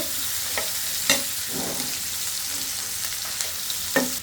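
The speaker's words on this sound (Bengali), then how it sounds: "মাছটা আমার ভাজা হয়ে গেছে, দিয়ে দিয়েছি আলু পেঁয়াজ, এগুলো একটু বেজে নিব।" Potatoes and onions fry in hot oil beside already-fried fish, a steady loud crackling sizzle broken by a few sharp stirring clinks of a spatula against the pan.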